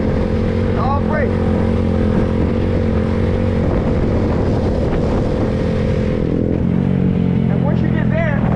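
Honda Grom motorcycle engine holding a steady throttle through a wheelie, a loud, constant drone with wind rush and slight pitch wavering, with talk over it.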